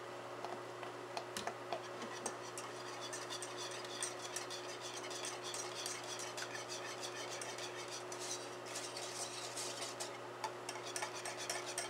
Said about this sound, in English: we're just mixing it to melt the butter